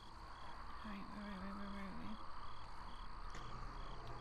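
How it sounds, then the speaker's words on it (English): Toads in the Neverwinter video game let out a sustained low croaking trill, then a shorter second call, over a steady ambient bed of insect-like chirring and game atmosphere. "let me heal right away before we go and get the toads."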